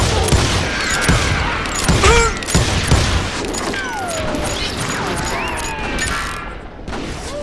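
Rapid gunfire from the Western shooter video game Call of Juarez: Gunslinger, with dense overlapping shots, metallic clicks and ricochet-like whines that continue loudly throughout.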